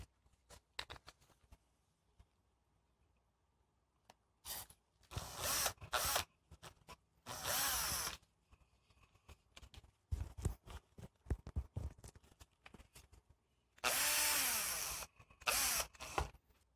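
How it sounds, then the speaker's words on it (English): Electric drill spinning a length of wire to straighten it, heard in several loud whirring bursts of a few seconds each, separated by quieter handling and clicks. "Now you can switch your drill to the higher speed setting"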